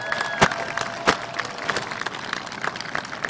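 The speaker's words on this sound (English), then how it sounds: "let's give them a big, big round of applause" Crowd applause at a 2022 spring community college commencement ceremony for graduates' parents and grandparents, steady dense clapping with a few sharp louder claps, continuous throughout.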